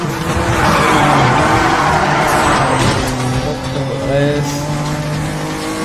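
A car in the racing video game Need for Speed: The Run drifts on a mountain pass road, with tire squeal and engine roar sustained throughout while a voice talks over it.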